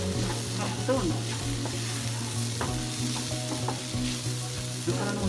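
Ginger garlic paste frying on a stovetop while being stirred for a dondakaya (ivy gourd) fry, a steady sizzle with repeated spatula scrapes against the pan, close and continuous.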